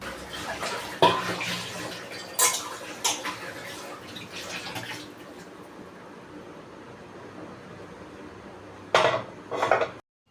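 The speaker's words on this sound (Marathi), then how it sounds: "पास्ता जो आहे तो पूर्ण मी असं ना थंड पाण्याने धुवून घेते" Water runs and splashes in bursts as cooked pasta is rinsed with cold water in a metal pot, with clinking of cookware between pauses.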